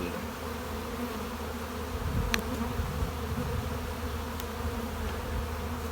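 Honey bees hum steadily around an open colony being fitted with a paper-towel layer and queen excluder, a dense continuous drone with a few brief louder passes close by.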